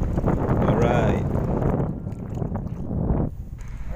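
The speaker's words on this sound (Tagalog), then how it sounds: "Tayo po ay tinatangin ng hangin" Strong wind buffets the microphone at sea in a small boat, with heavy rumbling gusts and surging noise. A person talks partway through, and the roar eases briefly before building again.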